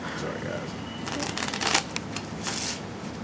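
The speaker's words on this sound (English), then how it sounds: "Let's shuffle." A deck of playing cards is shuffled close by during card tricks, giving quick riffling bursts and soft flutters over about three seconds.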